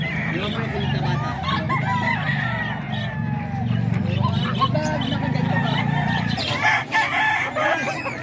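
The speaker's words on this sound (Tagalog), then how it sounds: "maraming manok din na binibenta dito" Chickens and roosters at a Baliwag market cluck and crow steadily, several overlapping calls layered over a continuous hum of crowd noise and nearby voices.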